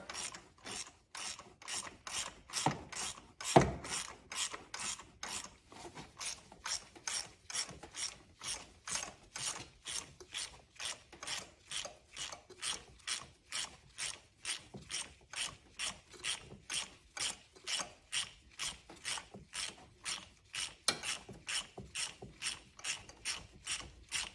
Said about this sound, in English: using a 5/8 of an inch or 16mm spark plug wrench or spark plug socket, remove the spark plug